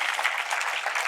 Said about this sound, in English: let's give a round of applause to all the volunteers